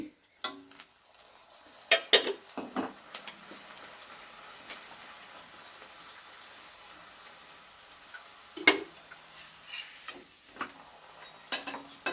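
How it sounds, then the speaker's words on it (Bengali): Sesame paratha frying in a little oil in a pan, giving a low steady sizzle with occasional louder clinks and scrapes of a utensil against the pan. "যেভাবে খুশি ভাজতে পারো কম তেল দিয়েও ভাজতে পারো বেশি তেল দিয়েও ভাজতে পারো"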